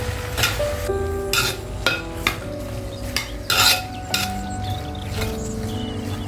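Two onions frying in a pan for Tamil garlic kulambu, with a faint sizzle under repeated metallic clinks and scrapes of a spoon stirring against the pan, close and uneven in rhythm.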